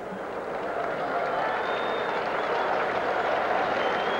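Stadium crowd at a 1984 Iowa at Ohio State college football game cheering for the Ohio State Buckeyes at the end of the first quarter, a steady broad roar of many voices that holds loud and even throughout.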